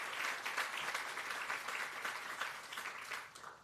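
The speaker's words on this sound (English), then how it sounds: "So give yourself a round of applause" An audience at a ribbon cutting ceremony applauds, a fairly faint but steady wash of many hands clapping that swells slightly and eases toward the end.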